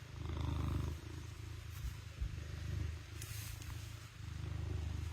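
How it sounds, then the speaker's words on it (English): A pet cat purrs up close, a low steady rumbling that pulses in long waves with brief pauses, quiet and intimate, with a faint click partway through. "Listen to that purr."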